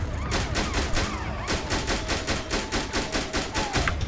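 Rapid bursts of automatic gunfire from the game GTA 5 with the LSPDFR police mod, an army patrol opening fire on a vehicle in Los Santos; sharp repeated shots rattle on steadily and loudly throughout.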